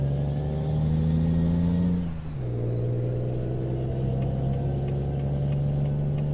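A steady, droning truck engine in Euro Truck Simulator 2, driving in Scandinavia, with a brief drop in pitch like a gear shift, then continuing to hum evenly.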